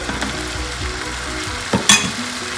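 Prawns frying in a pan for prawn biryani give a steady, loud, close sizzle, with one brief clatter near the end.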